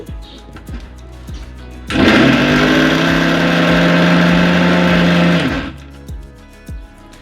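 A mixer grinder blitzes bread into crumbs, a loud, close motor whine that kicks in abruptly, holds steady for about four seconds, then cuts off, with quieter handling clicks before and after.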